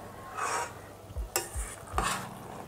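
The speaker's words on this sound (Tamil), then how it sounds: "அரிசி உடையாமல் பொறுமையாக கலந்துடுங்க" Rice for chicken biryani is stirred in a pot, giving a few scraping, clinking strokes of a spoon against the metal, close and fairly quiet, with pauses between strokes.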